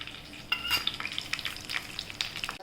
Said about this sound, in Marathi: चांगले तळले गेले काजू